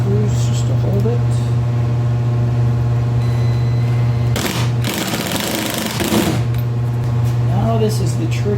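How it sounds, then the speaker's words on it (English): A power drill drives a couple of screws into a homemade river tube motor cap, giving a loud whirring buzz with a steady pitch and short bursts of heavier grinding, while a person speaks over it. "we can push that on, drive in a couple of screws just to hold it"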